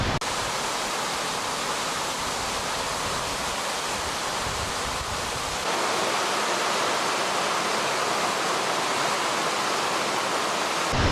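Amicalola Falls, a gigantic waterfall on the Appalachian Trail, roars in a steady, loud, broadband rush from close by, unbroken for the whole stretch with no voices.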